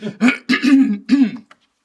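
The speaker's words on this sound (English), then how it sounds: "I just have to clear my throat, excuse me" A person at a council meeting clears their throat several times in quick succession, close and loud, ending in brief silence.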